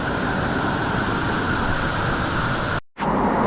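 A waterfall on Koh Samui pours as a steady, dense rush of falling water, close and even, with a brief dropout near the end.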